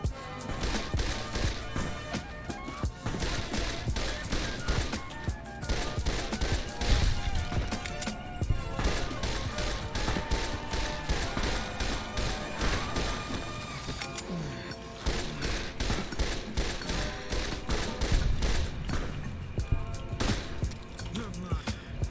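Dense, rapid gunfire from a shooter game set in the Mojave crackles almost continuously for over twenty seconds, with brief pauses between bursts, loud and close against faint game sounds.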